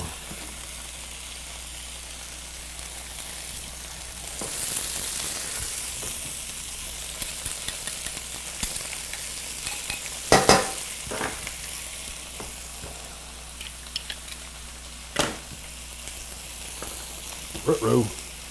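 Mushrooms, garlic and onions sizzle steadily in a frying pan for a beef stroganoff, a continuous close hiss broken by occasional louder clatters and stirring knocks.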